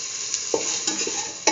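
A spoon stirs salt into a curried chickpea and beetroot stew in a pan, giving soft scraping strokes and a few sharper clinks over a steady sizzle.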